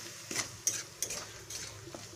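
Ground spices, including turmeric and Kashmiri chili powder, fry in a pan while a spoon scrapes and stirs, giving several close scraping strokes over a soft sizzle.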